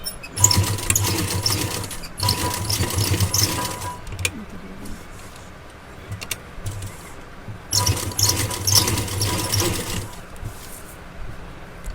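A sewing machine stitches a readymade neckline right beside its embroidery, running in three loud bursts of rapid mechanical chatter separated by quieter pauses.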